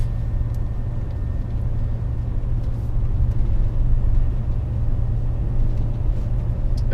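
A steady, loud, low engine rumble fills the cab of a new truck driving on the road in the UK, droning continuously with no talk.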